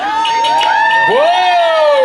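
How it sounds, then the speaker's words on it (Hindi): A wedding sangeet crowd whoops and cheers for a performer, with high, rising shouted calls and whistling voices overlapping in a loud, continuous burst. "प्रांजल के लिए जोरदार तालियां"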